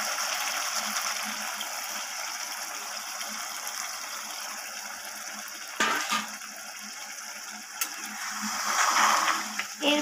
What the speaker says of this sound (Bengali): মশলার যে বাটি ধোয়া জলটা ছিল ওইটুকুই জল আমি এর মধ্যে দিয়ে দেব